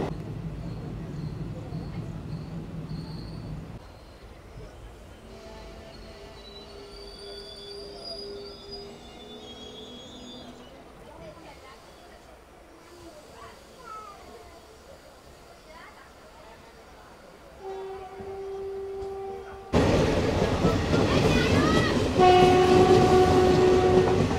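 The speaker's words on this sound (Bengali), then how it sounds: "এই মুহূর্তে আমার ট্রেন ঢুকছে আজিমগঞ্জ জংশন রেলওয়ে স্টেশন" The 13177 Jangipur Road Express pulls into Azimganj Junction with a low rolling rumble of wheels on track, squeals and tonal horn blasts, then grows loud and close near the end as the carriage noise swells; a voice talks over it in places.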